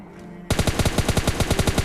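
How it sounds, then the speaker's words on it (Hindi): Automatic gunfire in the mobile game PUBG Mobile Lite, a sudden loud burst of rapid, evenly spaced shots that starts after a brief quiet moment and runs without pause, with no talking. "अब तभी मुझे इधर से गन साउंड आते हैं"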